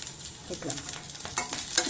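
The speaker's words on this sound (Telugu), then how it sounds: "ఎక్కువ వేగాల్సిన అవసరం లేదండి. పచ్చిమిర్చి ఇట్లా వస్తే చాలు." Green chillies sizzle and crackle in hot oil in a pan, a brief close frying hiss with small pops, while a voice speaks a word softly.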